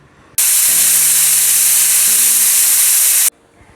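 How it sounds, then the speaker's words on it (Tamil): A kitchen pressure cooker cooking ven pongal lets out one loud, sustained whistle of rushing steam lasting about three seconds, with faint tonal whistling inside the hiss before it cuts off abruptly. "இப்போ ஒரு 4 விசில் வரட்டும்."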